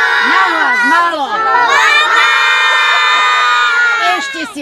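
A group of children shouts loudly together on request, a sustained chorus of high, overlapping voices lasting several seconds with rising and falling pitch.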